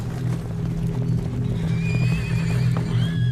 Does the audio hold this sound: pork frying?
no